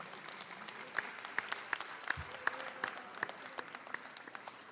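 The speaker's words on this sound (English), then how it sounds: "A round of applause for everybody in the audience." Applause from an audience at an annual scholarship program, fairly quiet with distinct claps scattered through the room, a few sharper claps standing out near the microphone.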